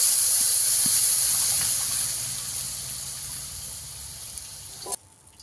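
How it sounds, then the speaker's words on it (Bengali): Fish curry gravy for a snakehead fish and beet greens dish boils in a pan with a steady steamy hiss and sizzle that slowly fades before cutting off abruptly near the end. "এবারে আমি ভালো করে ঝোলটাকে ফুটিয়ে নেব।"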